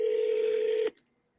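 A single steady telephone tone is heard during a cold call, clear and even for just under a second before it cuts off into near silence.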